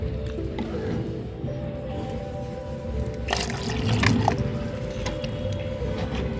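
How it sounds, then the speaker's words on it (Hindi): Water is poured from a 125 ml glass into strained homemade onion-peel liquid fertilizer, giving a soft splashing gurgle that swells into a brief louder pour midway, close and alone over a low background hum. "2 गिलास आपको इसमें पानी डालना है।"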